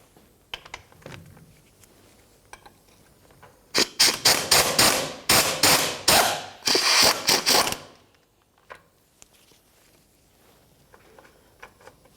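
A ratchet wrench backs out 17mm bolts and nuts on a 2004-2015 Nissan Titan during fuel pump module work, with a loud run of rapid ratcheting clicks in bursts mid-clip between quieter handling clatter.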